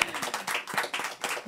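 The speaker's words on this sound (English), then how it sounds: "Some more claps." An audience at a solar cities conference claps between talks, a quick burst of overlapping handclaps heard up close and fairly loud.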